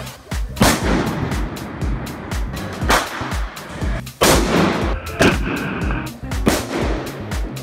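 Loud, sharp firecracker bangs burst repeatedly in irregular clusters across a city during the Fallas festival in Spain, echoing outdoors with some sustained crackling between the blasts.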